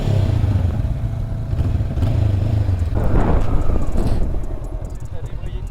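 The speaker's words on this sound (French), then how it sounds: "Fais goûter un peu le bruit du pot pour là" A motorcycle exhaust revs and idles nearby during a riding-licence lesson, a low steady engine rumble rising into a louder rev, with people talking over it.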